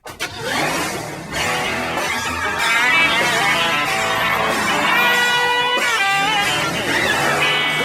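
A bone-stock 2003 Mercedes E55 AMG sedan with a 469-horsepower engine runs and revs loudly and steadily after a quick start, with music and some voices mixed in.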